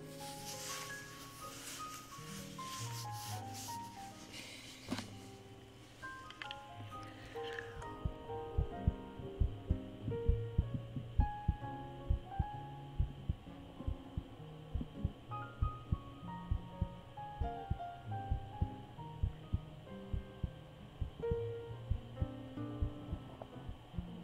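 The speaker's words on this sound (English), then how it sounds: "A little bit of heartbeat." A soft heartbeat in an ASMR livestream, heard as a steady series of low thumps, close and faint, running through most of the stretch after an earlier rustly passage.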